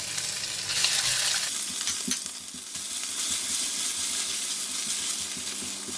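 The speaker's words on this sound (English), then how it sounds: "Fry until they have a nice fragrance, and I'm going to put in the garlic and the ginger paste." Whole spices with garlic and ginger paste frying in oil for biryani rice, a loud close sizzle that surges as ingredients go in, then settles to steady crackling with occasional stirring scrapes.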